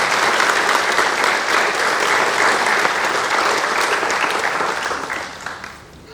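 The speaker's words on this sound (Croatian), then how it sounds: "sada ih sve pozdravite pljeskom" Loud, sustained applause from an audience at a school award ceremony honouring competition winners, dense clapping throughout that thins and fades toward the end.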